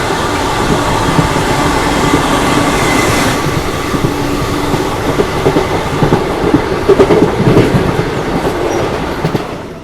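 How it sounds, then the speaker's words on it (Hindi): An Indian double-decker express train runs along the railway line, a loud, close, continuous roar of wheels on track with rhythmic clattering and brief squeals building toward the end. "ये देखिए डबल डेकर एक्सप्रेस है यहाँ पे, ये इंडिया की फास्टेस्ट डबल डेकर एक्सप्रेस है।"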